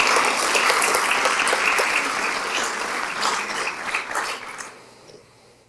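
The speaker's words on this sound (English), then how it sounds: "Please give these scientists another round of applause." Audience applause at a school board meeting recognising student scientists, a dense steady round of clapping from a room of people that holds for several seconds and then thins out and fades near the end.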